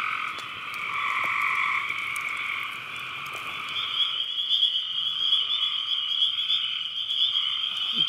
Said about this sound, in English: It's like trying to go to sleep with a rock concert of bugs going on outside